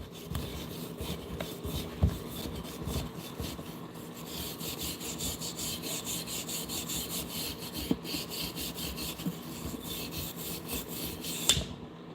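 A magnetic brush scrubs rust from inside a dynamo generator's motor in a quiet, steady rasping scratch of quick repeated strokes, heard up close for the whole stretch with no talking.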